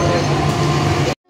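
Inside a moving passenger train between Juinagar and Thane, a loud continuous rumble and rattle of the carriage that cuts off abruptly near the end.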